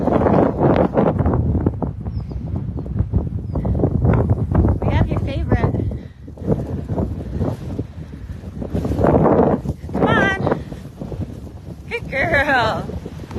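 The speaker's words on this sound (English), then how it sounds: "It's very windy." Strong outdoor wind buffets the microphone in loud, uneven gusts, with a person talking through much of it and a couple of brief high squeaky chirps near the end.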